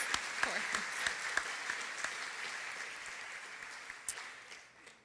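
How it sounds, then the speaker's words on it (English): Audience applause at a 2018 school graduation ceremony, a steady wash of many hands clapping with a few sharper nearby claps standing out, fading slightly toward the end. "One more round of applause, please, for Senator Martinez."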